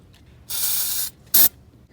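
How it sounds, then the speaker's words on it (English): Engine degreaser sprayed around the heads of a 7.3 Powerstroke diesel engine, one loud half-second hiss of spray followed by a shorter, sharper burst. "Let's spray down the area around the heads a little bit."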